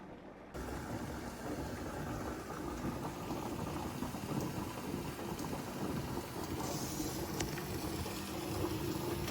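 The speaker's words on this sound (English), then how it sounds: "The steam is coming out." Steady hissing rush of steam venting from a pressure canner full of quart jars of dried beans, loud and continuous with no voices.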